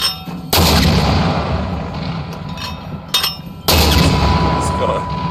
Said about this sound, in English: Which I've got no clue how to aim a mortar